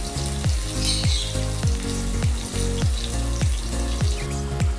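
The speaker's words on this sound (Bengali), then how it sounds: "আলুগুলোকে নেড়ে চেড়ে বেশ সুন্দর করে লালচে লালচে করে ভাজবো" Potatoes frying in a pan, a constant loud sizzle broken every half second or so by a scraping stir of the spatula, repeated in a steady rhythm for the whole stretch.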